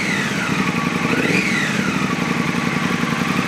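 Engine of a Triumph 1200 motorcycle, Speed Twin or Scrambler 1200, revs up and settles back, a loud, close, throbbing twin-cylinder rumble with one rising blip midway and no talking.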